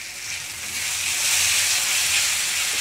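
A cashew and peanut paste hits a hot pan and sets off a loud, continuous hiss that builds slightly and holds for a few seconds.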